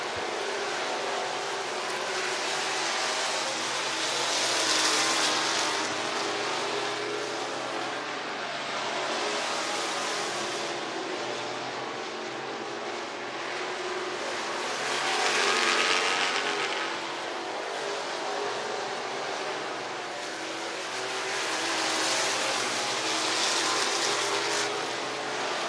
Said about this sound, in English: As we're back to Hot Lap qualifying with the street stocks.